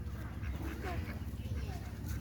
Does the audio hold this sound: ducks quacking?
yes